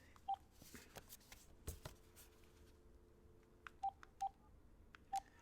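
A telephone keypad is dialed, giving four short separate tones spread over a few seconds, with faint clicks and rustling between them.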